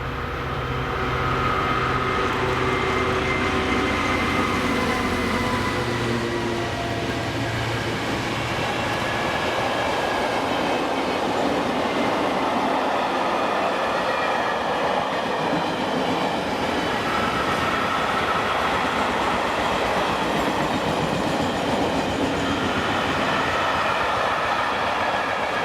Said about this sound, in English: the 1810 Mossend to Dagenham Docks empty car train, with a triple of EWS shed 66119 leading